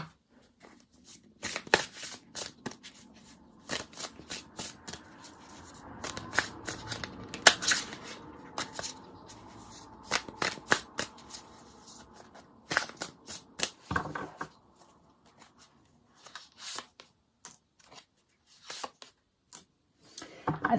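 Tarot cards being shuffled and laid out, with repeated riffling bursts and soft slaps and slides of cards on a surface, close and fairly quiet, in irregular clusters with pauses between.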